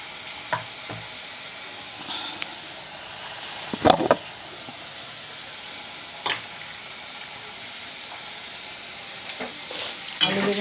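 Potato and eggplant fry in a pan with a soft steady sizzle, broken by a few sharp scraping stirs of a spatula, loudest near the middle and again at the end.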